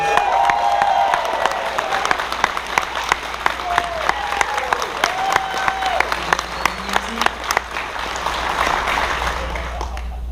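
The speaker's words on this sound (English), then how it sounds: "So give her a round of applause, please." Steady audience applause fills a closing-ceremony hall at Megaplex XVI 2017, dense clapping with a few cheers and voices mixed in, holding at a fairly loud level throughout.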